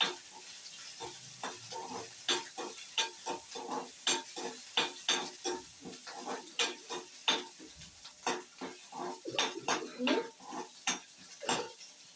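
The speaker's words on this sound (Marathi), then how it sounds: "ते आपण व्यवस्थित परतून घ्यायचे आहे छानपैकी" Curry leaves and other ingredients sautéed in a pan, quiet background sizzle under a steady run of spoon scrapes and clinks against the pan, roughly one or two per second, close by.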